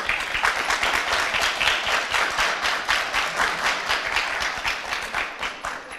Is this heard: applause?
yes